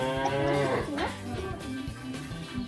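Cows at a home dairy moo in long, drawn-out lowing calls, one rising and falling near the start, with further bellows and faint background talk.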